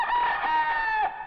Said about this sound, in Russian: Слышишь? Последние петухи.